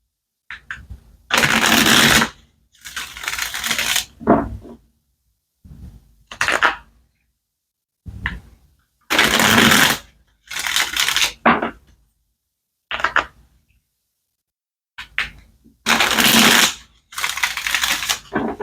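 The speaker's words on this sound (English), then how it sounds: "Let's go ahead and pull some more cards." Tarot cards shuffled and pulled from the deck during a love reading, heard as repeated loud bursts of riffling and slapping separated by short pauses, close up, with no talk.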